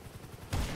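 A single burst of gunfire in Grand Theft Auto V roleplay, loud and close, cutting in sharply after a stretch of low background noise.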